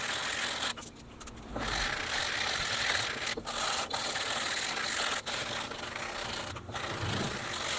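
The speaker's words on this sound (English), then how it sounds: "as I go ahead and sand it down with a sanding block" A sanding block rasps steadily across a wooden guitar neck during a build, with continuous close scraping strokes and brief pauses between passes.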